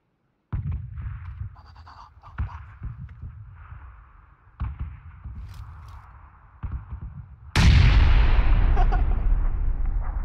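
Gunfire and a grenade explosion in the video game PUBG, several loud shots spaced a couple of seconds apart followed by a big booming blast that rumbles and decays.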